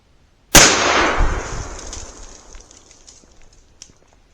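A single loud .44 Magnum rifle shot from a Marlin 1894 lever-action cracks sharply, then rolls off into a long fading echo outdoors. No voices are heard.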